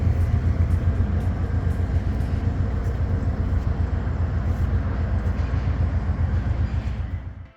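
An Amtrak California Zephyr passenger train on its Chicago to San Francisco run gives a steady, close, loud low rumble that carries on unbroken before fading away at the end, with no one talking.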